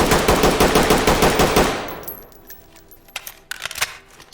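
A Mark 18 rifle without an optic fires in Ready or Not: a loud, rapid, fully automatic burst with fast, even shots stops short and is followed by sparse metallic clicks and clacks of handling.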